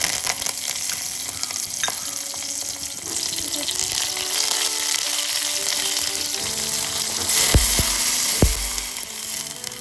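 Mustard seeds, chillies and curry leaves sizzling in hot oil as a tempering for dhokla, a steady close crackle and hiss with a few sharp pops near the end.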